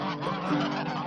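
Geese on a farm give a short, loud burst of nasal honking, several birds overlapping close by in about a second of sound.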